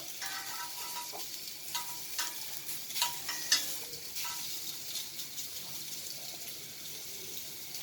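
İnegöl köfte meatballs fry in a pan with a steady, soft sizzle, punctuated by a few clinks and scrapes as they are turned, heard close with no talking.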